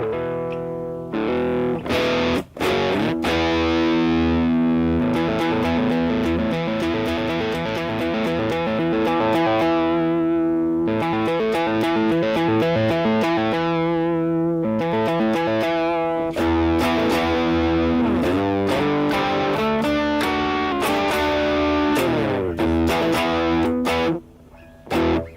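An electric bass guitar runs through distortion and effects in a home recording session, giving a dense, sustained, buzzing tone with shifting notes and no talking over it.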